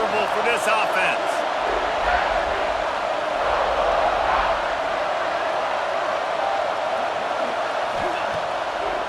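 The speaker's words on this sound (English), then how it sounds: "This crowd trying to make life miserable for this offense." A stadium crowd roars in the College Football 26 video game, a dense, continuous wash of noise that holds loud and even throughout.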